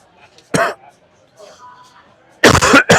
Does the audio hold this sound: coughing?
yes